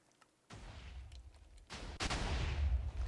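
A Minecraft TNT cannon fires, with a sudden loud blast followed by a rumbling roar and a second, stronger explosion near the end. Both are heavy, close and sustained, with no talking.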